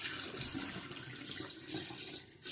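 Water running over rice grains being rinsed in a pot, then tipped out in a steady close gush, ending with a brief louder splash.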